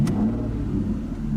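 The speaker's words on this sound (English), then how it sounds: "this is how you start the engine." An Aston Martin Rapide engine fires up from the driver's seat with a brief starter catch and then a steady, close mid-pitched rumble as the engine settles into idle.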